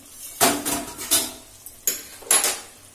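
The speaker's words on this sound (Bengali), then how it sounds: "এবারে আমি ঢাকাটা খুলছি।" A metal lid comes off a pot of vegetarian Kashmiri aloo dum with a few close, bright clanks and scraping knocks in quick succession, and no voices.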